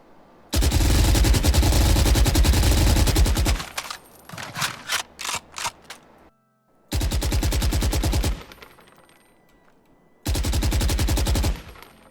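Automatic gunfire from a rifle sprayed in the game Valorant, three long loud bursts with a choppier stretch of separate shots between, comparing aiming down sights with hip firing.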